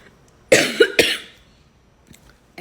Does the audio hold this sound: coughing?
yes